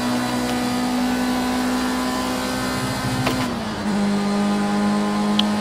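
Race car engine holding top speed in the racing game Project Cars 2, a loud, steady high-revving drone with a brief dip and gear-like pitch step partway through, continuing strongly to the end.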